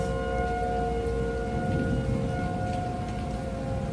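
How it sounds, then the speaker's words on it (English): A steady wailing tornado warning siren holds throughout, distant and sustained over a low rumbling background under threatening clouds in the US Midwest, with no talking. "So there's tornado warnings, siren off"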